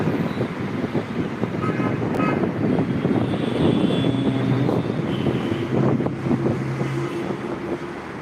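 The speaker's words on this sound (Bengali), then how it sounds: "মাত্র একটা বিমান ল্যান্ড করলো" A jet airliner rumbles at Hazrat Shahjalal International Airport in Dhaka after landing, a steady broad roar with wind buffeting the microphone throughout and some low engine drone.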